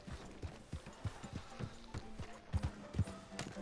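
Horse hooves in the video game Red Dead Redemption II clip-clop at an unhurried walking pace, a steady run of distinct hoofbeats fairly close by.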